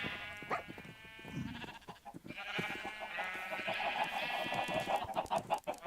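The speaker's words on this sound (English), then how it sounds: "I got too many chickens again." A cluster of chickens on a Minecraft server, clucking in a busy overlapping chatter, fairly quiet, with bleating sheep or goats mixed in around them.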